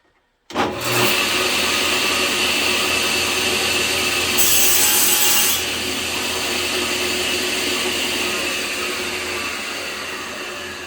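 Power saw cutting off and trimming a wooden pen blank for a slimline pen, a loud steady whine that starts abruptly, grows harsher briefly mid-cut, then runs on evenly with no speech.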